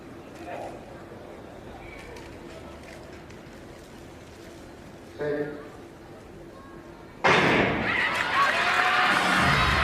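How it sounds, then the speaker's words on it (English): A large crowd at a European Athletics U20 Championships women's 400m semifinal in Tampere bursts into a loud, sustained roar after a fairly quiet stretch of murmur and commentary, with a brief thump midway through. "A big roar from a big crowd."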